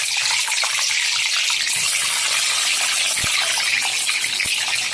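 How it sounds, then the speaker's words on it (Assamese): An egg dropped into hot oil in a kadai, giving a loud, steady broadband hiss and sputter with a few sharp pops, no voices. "তেলখিনি গৰম হওঁতে আমি এতিয়া কণীটো দি দিম ইয়াতে"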